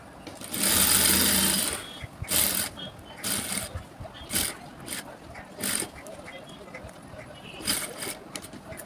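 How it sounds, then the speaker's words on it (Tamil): A sewing machine stitches along the edge of a blouse in short repeated runs, with a longer burst at the start, close by, and someone speaks between the stitching bursts. "இந்த மாதிரி ஃபுல்லாகவே வந்து நான் தையல் போட்டு எடுத்துக்க போகிறேன்."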